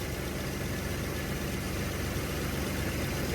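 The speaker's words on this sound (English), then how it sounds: "The idle is higher, staying higher than what it was." A 1981 Chevy C10 engine idling at a slightly raised speed after new spark plugs, a steady close rumbling drone with even low pulsing and no talk.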